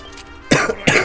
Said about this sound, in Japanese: やばいわ、もう咳が。